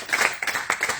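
A church congregation claps in quick, uneven bursts at the close of a fasting-and-prayer worship service. The clapping is fairly close and lively, filling the full second, with no voices over it.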